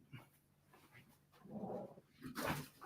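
Dogs in a home setting give short muffled barks and a burst of panting and whining, fairly near, with no talk over them.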